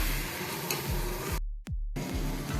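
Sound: stirring yogurt masala mixture into egg masala in a pan

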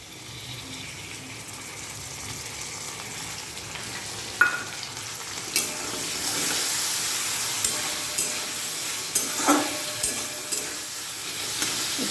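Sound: ginger garlic paste frying with black chickpeas

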